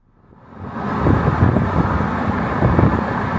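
A Ferrari 458 Italia being driven, its engine and road noise swelling up from near silence into a steady, loud broadband roar that holds without pause.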